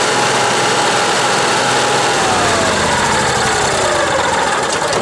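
The generator engine on a Keystone Fuzion 405 RV runs loud and close with a steady, droning hum and mechanical rattle, its pitch drifting slightly over a few seconds with no voices.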